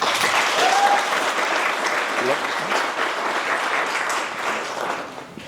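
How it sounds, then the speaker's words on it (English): An audience at a Three Minute Thesis competition gives a steady, full round of applause for the first competitor, a kinesiology student, sustained clapping that tapers slightly near the end. "Please give him a round of applause"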